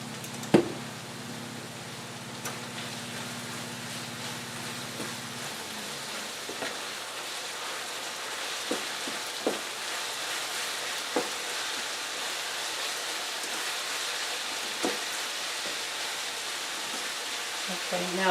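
Chopped meat cooks in a pan for stuffed pepper casserole, giving a steady, quiet sizzle with a low hum in the first few seconds and a few faint clicks or stirs scattered throughout.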